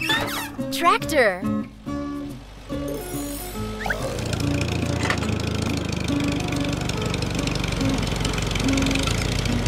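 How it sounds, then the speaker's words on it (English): A tractor engine drones steadily and loudly for several seconds with a rough mechanical rumble, following a short burst of sung children's music and voice at the start. "Tractor."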